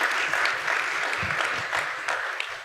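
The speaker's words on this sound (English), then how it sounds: "Please, a round of applause to him." Summit audience claps for a departing speaker, a steady moderate round of applause from a hall full of people, with faint voices murmuring underneath.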